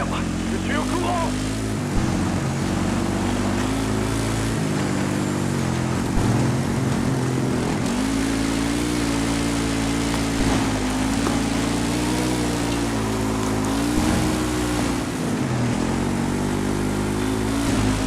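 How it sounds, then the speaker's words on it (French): A helicopter in the video game Battlefield 6 drones steadily with a loud, continuous rotor and engine rumble throughout, while voices talk over it. "Leur hélico vient de déposer des renforts."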